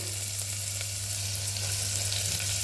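Onions frying in a pot with whole spice, a continuous dense sizzle with a steady low hum underneath, close and even throughout.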